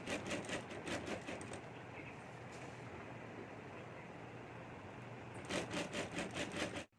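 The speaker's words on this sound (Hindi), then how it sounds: "यहाँ ऊपर हमें सिलाई कर देनी है" Sewing machine stitching golden fabric piping, a close steady mechanical whir with faster rattling bursts at the start and end, no talk.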